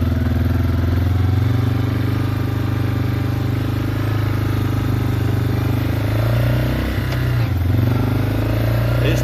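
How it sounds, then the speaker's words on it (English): A rebuilt Yamaha Wolverine ATV engine idles steadily in first gear, a close, loud, even thrum with a brief dip near the end. "1st gear, you can hear how it's idling. It's idling pretty good."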